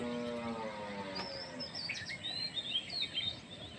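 Birds chirp faintly at sunrise in a green wooded landscape, with a few thin, scattered calls over a quiet, even background hiss.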